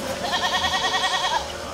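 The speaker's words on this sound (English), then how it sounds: "There is a farm on the side of the castle with goats," Goats on a farm beside a castle give one loud, close, wavering bleat with a pronounced quaver, heard alone over a faint background.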